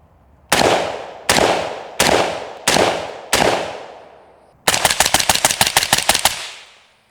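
Suppressed 5.56 rifle fired through a titanium WhisperStrike Match suppressor outdoors: five loud evenly spaced single shots with short decays, then a fast rapid-fire string of about a dozen shots, close with no talk.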